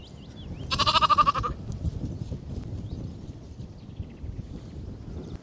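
A single sheep bleats once, a wavering nasal cry lasting under a second, from a field beside a campsite in the Lake District; quiet outdoor rustle and faint background sounds fill the rest.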